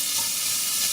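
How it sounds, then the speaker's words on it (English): Onions and celery frying gently in a pan over low heat give a soft, steady sizzle with light hiss, constant and close, with no voices. "Now I'm turning the onions down because I want to cook them through"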